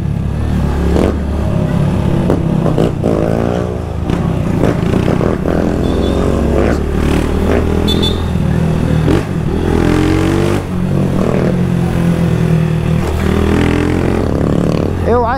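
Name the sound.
Honda Start 160 motorcycle with GRS exhaust revving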